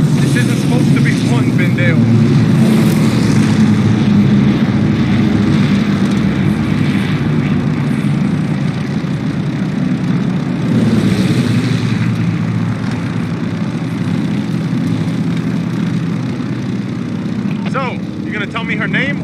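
A WWII propeller plane engine drones loud and steady throughout a Battle of Midway scene in Call of Duty Vanguard, with a voice talking over it partway through.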